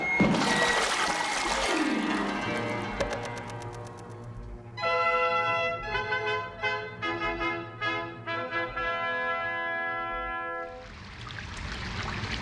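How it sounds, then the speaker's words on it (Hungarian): Rushing floodwater in a 1984 animated film, a loud gush and pour of water that fades, then returns with musical tones over it before the water surges again. "Elöntötte a víz az egész környéket!"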